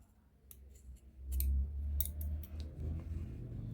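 Scissors snip crochet yarn to trim a tassel, making several sharp, close clicks and cuts in small irregular bursts over soft handling noise.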